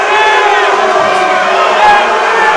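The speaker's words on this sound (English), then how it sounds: "you can hear the Parsons crowd" Parsons High School Vikings basketball crowd in a gym shouting and jeering at the officials after a foul call, a loud sustained roar of many voices with scattered cheers throughout.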